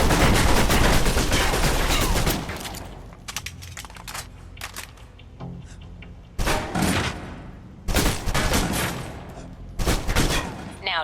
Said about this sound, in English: Now let's empty the clip.